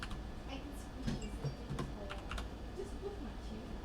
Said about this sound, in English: So I'm going to type that in manually.